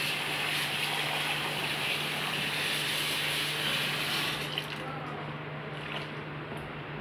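Green chillies and garlic being washed by hand in water, a steady wet swishing and squishing that runs throughout at close range with no talk.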